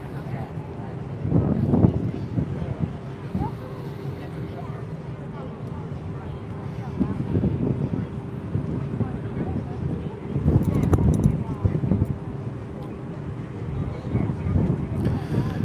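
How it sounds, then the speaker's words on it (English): Wind gusts buffet the microphone on the deck of the Carnival Magic cruise ship at sail away, rumbling in low bursts that swell and fade over a constant background, with people talking. "that wind's starting to pick back up"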